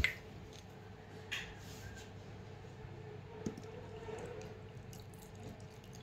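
Hands kneading dough with added water make soft, wet squishing and occasional dripping sounds, quiet and close, with no talking.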